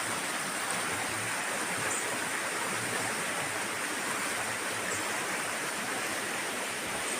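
A river flows past a fallen ash tree in woodland, making a steady, dense rushing wash that stays even and continuous throughout with no voices.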